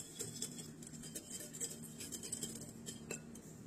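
Light clinks and taps of a utensil against a bowl, mixing sugar and instant yeast in an irregular stirring rhythm, close and fairly quiet.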